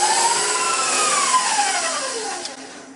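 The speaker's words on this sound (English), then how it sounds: "the egg and the sugar and the butter are all beaten together" Electric mixer beating egg, sugar and butter for vanilla cupcakes, a loud whining motor hum whose pitch slowly drops as it winds down, with no talk.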